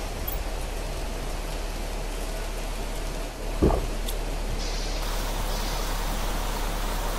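Heavy rain pours in the video game Planet Crafter as a steady wash of hiss. A single brief thud sounds around the middle, and the rain goes on unbroken afterward.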